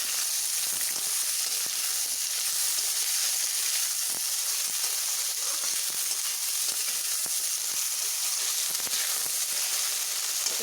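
Jackfruit seeds frying in a pan give a steady, close, continuous sizzle and hiss with small crackles and occasional stirring scrapes throughout.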